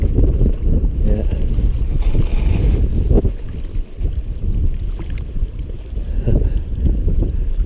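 Wind gusts across a lake during an afternoon of fishing in wet weather, a steady, loud, low rumble of wind buffeting the microphone that runs unbroken throughout.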